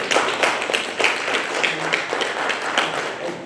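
A round of applause breaks out at a high-level media briefing on Fiji's national action plan, with many hands clapping in a steady, moderately loud patter from a room audience.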